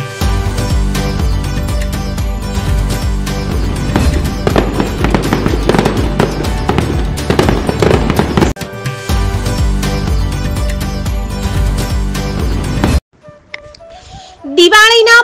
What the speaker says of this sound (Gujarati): ફટાકડા